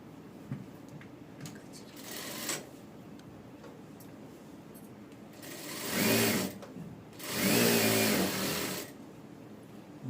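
A sewing machine stitches a princess-cut padded blouse in bursts: a short run near the start, then two louder sustained runs later, separated by quiet pauses with faint ticking handling sounds.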